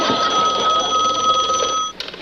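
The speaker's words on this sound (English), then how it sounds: "Your phone's ringing." A telephone rings indoors with a loud, steady electric bell, one continuous ring lasting about two seconds before it cuts off abruptly, heard close and alone.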